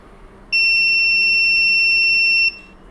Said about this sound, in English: I connected the reed switch and the beeper is going to beep.